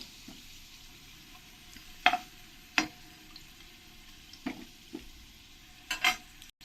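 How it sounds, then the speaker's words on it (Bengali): Potatoes frying in oil in a pan for a katla fish curry, with a quiet, low sizzle and a few sharp spatula clinks and scrapes spaced out, no voices. "আমার আলুগুলো ভালো করে লাল লাল করে ভাজা হয়ে গেছে"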